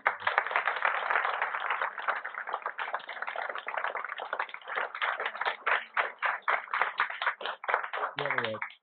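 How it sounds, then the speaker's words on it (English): An audience at a school readiness forum bursts into sustained clapping that fills the room for nearly nine seconds, dense and steady before thinning into separate claps at the end. "we have a round of applause."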